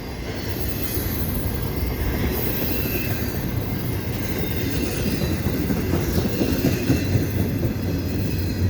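A westbound Via Rail passenger train passes Dorval Station in a loud, steady rumble, with wheels squealing and a rhythmic clickety-clack on the rails, close by and without talk.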